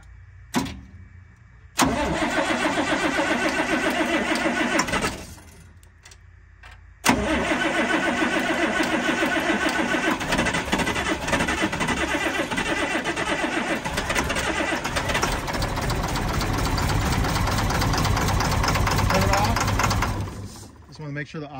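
A diesel engine in a 1997 GMC 7500 bucket truck, damaged in a rollover, cranks and catches on a 32-degree morning, runs briefly, stops, then restarts and settles into a loud, steady rumbling idle.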